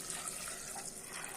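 Steady water running and splashing into a pot of sundal being cooked, a continuous close-up pour with no voices, even in level throughout.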